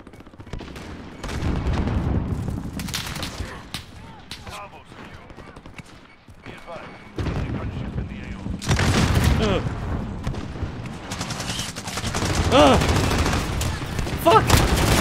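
Rifle gunfire in a shooter video game: repeated sharp shots and rapid bursts, loud and close, coming in clusters with brief pauses between, with someone talking at times over the firing.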